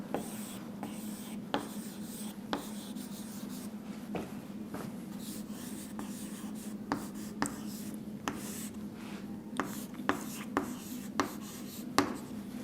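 A pen scratches steadily across paper close by during an English grammar lesson, with continuous scribbling broken by regular light taps and a low background hum.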